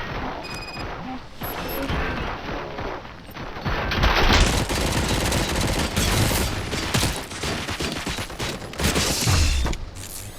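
Sustained heavy gunfire in the video game RoboCop Rogue City: dense, loud bursts of automatic shots with crashing impacts that continue almost without pause throughout.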